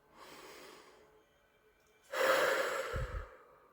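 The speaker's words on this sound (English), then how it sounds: "take a deep breath, close your eyes" A person takes a slow deep breath, a soft inhale followed after a pause by a louder, fuller breath out, close and quiet with no talking.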